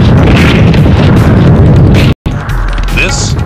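Explosion from a weapon firing in nuclear test footage, a loud sustained boom and rumble filling the first two seconds, cut by a brief gap, then a continuing lower roar with faint higher crackles.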